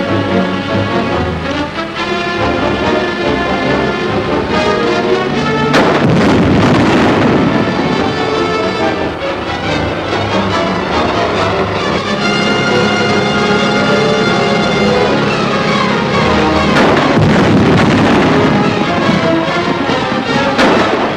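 Grenades explode in a video game: two heavy, booming blasts about ten seconds apart rise out of a continuous bed of loud game music.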